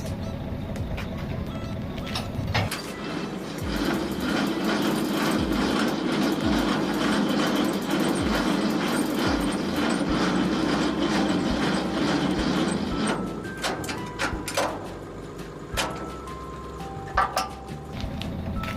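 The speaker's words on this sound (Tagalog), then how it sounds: "iangat na natin yung landing gear ng trailer niya" A semi-trailer's landing gear is cranked up by hand, a rhythmic series of mechanical clicks and ratcheting whirs close by, steady for several seconds before slowing into scattered metallic clanks.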